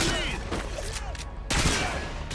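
SCAR rifle fire from the video game Call of Duty Modern Warfare II comes as dense, rapid bursts of shots with explosions, forming a loud continuous barrage that carries over voices talking.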